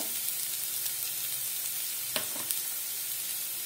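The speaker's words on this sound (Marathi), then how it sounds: "एक मिनिट चांगलं परतवून घ्यायचं लसणाची रस स्मेल जाण्यासाठी" Garlic and asafoetida sizzle in hot oil for a mustard-leaf bhaji, a soft steady hiss close by with a couple of sharp stirring clicks partway through.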